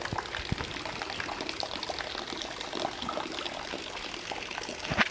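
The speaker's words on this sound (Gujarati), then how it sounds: "વરસાદ સવારનો આજે આમ ચાલુ છે જો" Steady rain falling outdoors, with water collecting where drainage is blocked: a faint, continuous patter and trickle with scattered drips, no talk.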